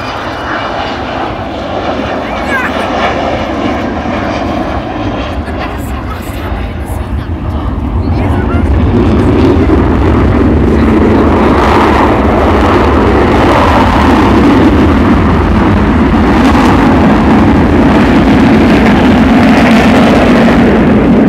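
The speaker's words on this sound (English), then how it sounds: "Undercarriage coming up as she goes by." An Avro Vulcan XH558 bomber flies past at an air show with its undercarriage retracting, its jet engines a loud, sustained roar that swells and deepens as it passes, with someone talking over it.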